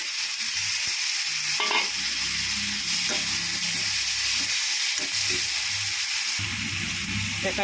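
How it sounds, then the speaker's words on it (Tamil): Onions and tomatoes fry in a pan for a kootu keerai kuzhambu, a steady soft sizzle and hiss with a spoon scraping and stirring in a few distinct strokes, close and moderately quiet, no talk. "அது நல்லா பொரிஞ்ச உடனே வெங்காயம், வதங்கினோடனே தக்காளி,"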